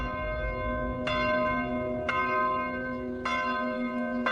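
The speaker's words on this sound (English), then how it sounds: "Sabka's churchyard bell" A German churchyard bell in Sabka, cast in 1915, ringing slowly, with four resonant strikes about a second apart, each leaving a long humming tone that overlaps the next, under a low background rumble.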